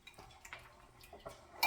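Yogurt mixture poured into a jar in a home kitchen gives soft, uneven liquid glugs and small splashes over a second or two, ending in a brighter clink of the glass.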